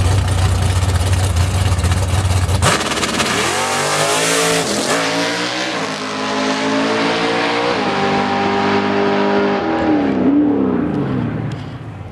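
A twin-turbo Ford Mustang drag car makes an 8-second pass on a drag strip: loud, close engine roar that surges hard, then climbs through rising gear pulls with brief shift breaks before fading as the run ends.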